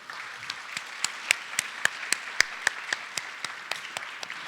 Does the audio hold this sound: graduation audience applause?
yes